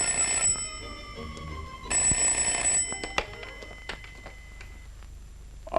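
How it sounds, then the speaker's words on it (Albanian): Old landline telephone bell in a 1986 Albanian comedy film, two long loud ringing bursts separated by a pause, followed by quieter clicks and handling sounds, no speech. "Cuku, mere pak telefonin se jam me zënë."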